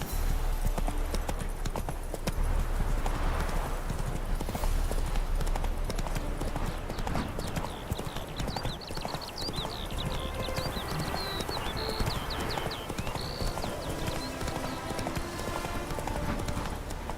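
Roach the horse gallops steadily in The Witcher 3: Wild Hunt, hooves clip-clopping in a quick even rhythm that runs the whole way, with a brief whinny and soft game ambience underneath.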